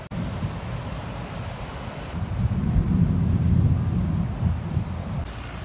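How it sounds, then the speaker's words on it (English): A stormy roar of heavy wind buffeting the microphone during a Florida storm, a dense low rumble that swells and fades, with a constant hiss of rain. "There's a massive storm going on."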